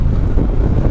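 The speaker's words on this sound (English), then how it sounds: "It's a pretty windy day right now." Strong wind buffeting against a motorcycle helmet while riding on a cold, windy day, a continuous low roaring rumble with no voices.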